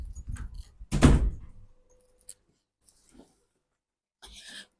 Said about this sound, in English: My door is open. Let me close it.